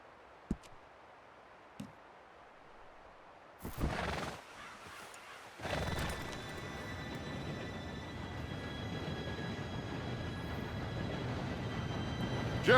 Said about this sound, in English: Train should be here any minute now.